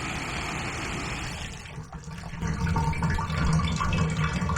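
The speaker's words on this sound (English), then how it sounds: "Man, I hate hearing the water run unless I'm using it." Water runs steadily from a bathtub tap, a continuous splashing rush that briefly dips and then returns a little louder, with no voices.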